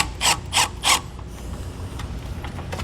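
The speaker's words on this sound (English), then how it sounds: "Make sure that you don't drill all the way through and ruin your bracket." A power drill drives a screw into a battery selector switch mounting bracket in three quick bursts, each loud and close, then fades into a low steady background.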